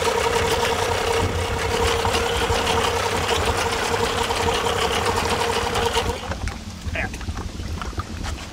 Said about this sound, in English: When I unplugged it, it killed the motor.